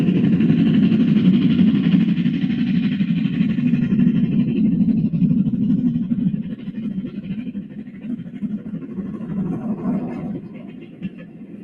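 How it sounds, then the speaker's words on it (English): An LMS Black Five steam locomotive runs close by with a heavy, continuous rumbling chuff that holds steady and then fades somewhat toward the end. "This Black Five sounds amazing in my opinion"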